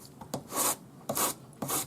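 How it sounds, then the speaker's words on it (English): Three bursts of dry, raspy abrasive rubbing as 400-grit sandpaper on a sanding stick smooths a joint on a metal bangle, each lasting a fraction of a second, close up with short pauses between strokes. "So now I'm just going to take my 400 grade paper on my sanding stick"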